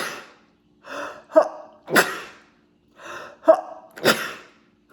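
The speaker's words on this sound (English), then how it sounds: "I have to sneeze." Two sneezes in a row from a person in a living room, each preceded by quick gasping in-breaths and ending in a sharp, loud burst, close and with no talking.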